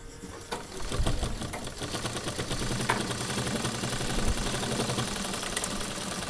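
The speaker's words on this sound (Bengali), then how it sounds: "এখানে আবার একটু সেলাই করে দেব।" Sewing machine stitching cloth for a homemade wall pocket made from old trousers, a steady rapid mechanical chatter running continuously and fairly close throughout.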